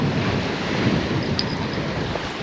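Strong wind buffeting a microphone on a harbour jetty by the sea during surfcasting, a dense continuous roar with low rumbling gusts and surf noise beneath, and no speech.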